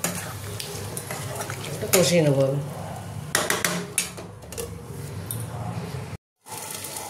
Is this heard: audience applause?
no